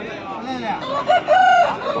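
A prize rooster crows once, loud and close, at the big Sunday animal market in Pileru, with busy crowd noise behind it.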